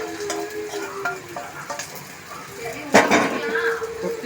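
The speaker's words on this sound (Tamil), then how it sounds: "கொட்டி மிக்ஸ் பண்ணணும்." Cashews fried in ghee get stirred into akkaravadisal in a pan, with a spoon scraping and clinking against the metal over a soft sizzle and a sharp knock near the end.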